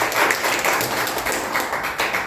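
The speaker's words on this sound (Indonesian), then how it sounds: "Kasih tepuk tangan dulu buat Tuhan Yesus." A congregation applauds during a Sunday worship service, a steady, dense wash of many hands clapping together at close range without a break.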